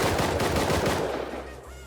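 Gunfire in the survival video game Rust comes as a loud, rapid string of close shots that trails off near the end of the stretch.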